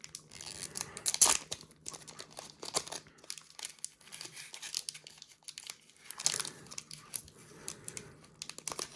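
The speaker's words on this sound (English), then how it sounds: "this pack is just deteriorating as I'm trying to open it up" A foil wrapper on an old 1991 Leaf baseball card pack crinkles and tears as it is opened, with soft, close crackling and a few sharper ripping bursts, no talking.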